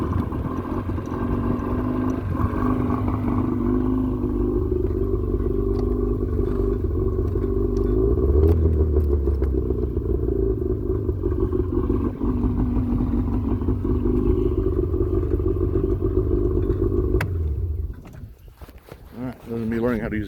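An outboard engine on a pontoon boat runs steadily after a choke start, a loud continuous low drone with clatter, dropping off briefly near the end.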